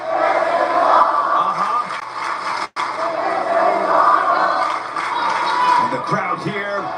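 Wrestling crowd roaring inside Manhattan's Hammerstein Ballroom during a main event, a loud, sustained wash of cheering and chanting that cuts out for a brief instant and then swells back, with some shouting voices in the mix.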